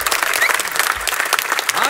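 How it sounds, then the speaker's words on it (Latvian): Audience applause follows an orchestra concert at a Georgia and Latvia exhibition in Riga, a dense, steady clapping that fills the whole short stretch. "Orķestris aplausi lūdzu mūsu skatītājiem."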